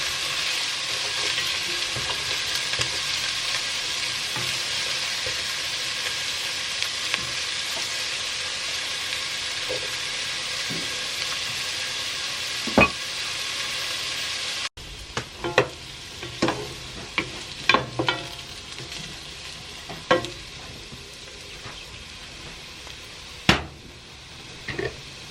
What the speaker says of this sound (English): so now I'm going to let these saute for about 3 to 5 minutes until they become soft.